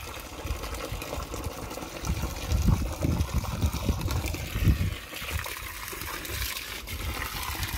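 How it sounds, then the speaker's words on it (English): Water being poured from a watering can onto soil in garden pots, a steady trickle and splash with a few louder gushes, close by and continuous. "we'll water the dirt a little"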